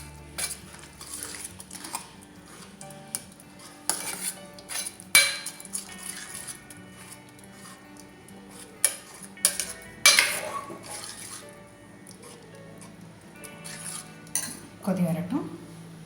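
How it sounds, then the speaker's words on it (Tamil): Peas for ragda being mixed and lightly mashed in a pot, with scattered spoon clinks, taps and scrapes against metal at irregular intervals, some louder knocks, close by. "இது எல்லாத்தையுமே ஒன்றா கலக்கிக்கணும். பட்டாணியை லேசாக ஸ்மாஷ் பண்ணிடுங்க."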